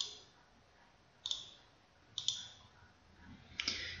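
Three crisp computer mouse clicks spaced over a few seconds, close and sharp against a quiet room background with no talking.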